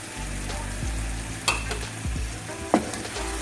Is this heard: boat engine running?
no